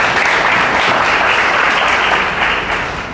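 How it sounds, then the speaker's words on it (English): Audience applause at a GifterX Talks event, a loud, dense, sustained roar of clapping from a large crowd, steady throughout and tapering slightly at the end. "Give yourselves a round of applause, please."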